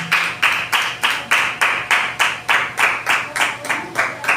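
Church congregation clapping in unison at a Bible day celebration, a regular rhythmic beat of about three claps per second, fairly close and steady from start to finish.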